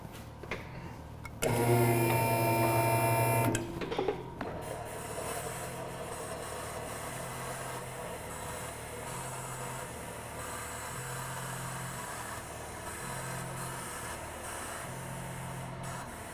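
An EVAP tester pressurizes the fuel system of a Jeep with a 4.7L engine while a lift lowers the vehicle in a workshop. A brief loud whirring burst is followed by a steady low mechanical hum with recurring faint tones.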